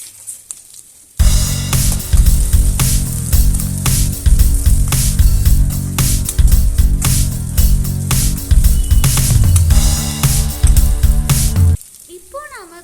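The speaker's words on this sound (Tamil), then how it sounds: "கட் பண்ணி வச்சுருந்த ஒரே ஒரு வெங்காயத்தை எடுத்து சேர்த்து நல்லா ஃப்ரை பண்ணிக்கணும்" Chopped onion and green chillies fry loudly in hot oil in a pan for cabbage poriyal. A steady, close sizzle crackles throughout, then cuts off abruptly near the end.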